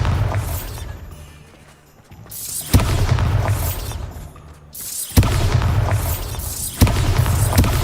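Bombarda explosion spells in Hogwarts Legacy, loud booming blasts with cracking debris, a cluster of three or four heavy detonations spaced a second or two apart, each decaying into rumble, no talk over them.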